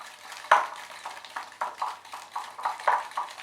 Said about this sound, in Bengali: এবারে একটা হুইস্ক দিয়ে আমি এটাকে ভালো করে মিশিয়ে দেব।